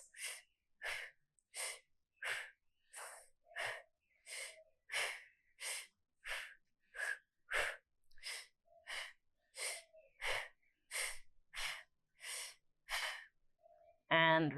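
Deep, steady breaths taken during a yoga core hold, lying on one elbow in a McGill Big 3 style lower back and core flow: about twenty evenly spaced, forceful breaths in a close, regular rhythm, with no talking.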